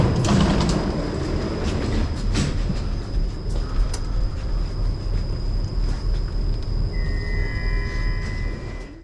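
A Stockholm metro train rumbles along the track with a steady low roar and faint rhythmic clatter, heard from inside the carriage; a high electric whine comes in near the end.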